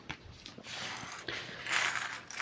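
A sewing machine stitches the lining of a handbag, giving a faint, brief, mechanical whirring rattle with quick ticking pulses and no speech.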